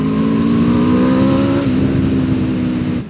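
Aprilia RSV4 V4 sports bike on its stock exhaust revving steadily, a loud close engine drone with rising and falling pitch that holds for about three seconds before cutting off.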